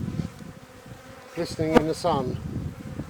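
Honey bees swarm around an opened hive during a spring inspection, giving a steady close buzz that swells midway, with someone talking briefly over it.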